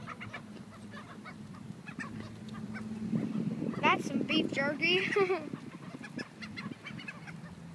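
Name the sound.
birds squabbling over food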